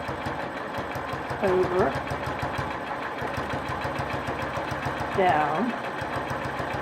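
Sewing machine stitching a quilting grid, a steady rapid mechanical chatter running throughout, with a person talking over it.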